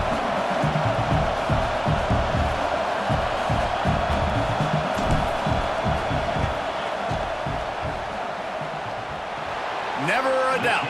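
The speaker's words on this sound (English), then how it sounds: "This crowd trying to do its part to get inside the kicker's head." Stadium crowd roaring in EA Sports College Football 26 as a kicker lines up, a dense, steady wash of cheering and yelling throughout, with brief sharper sounds near the end.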